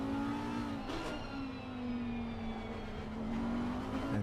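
A GT3 race car in a racing game at Paul Ricard, its engine droning steadily at a moderate distance, with pitch sweeps as it shifts gears and slight rises and falls in revs.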